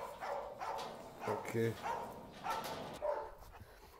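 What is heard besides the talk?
dogs barking at an animal shelter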